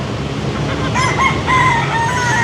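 A rooster crows twice in quick succession beside a roadside where chickens are tethered, clear and fairly close over a steady outdoor background hum.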